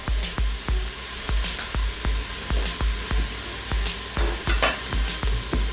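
Vegetables for red beans and rice sizzle steadily in a frying pan while a utensil stirs them, with regular scraping strokes about twice a second over a constant frying hiss, close and moderately loud.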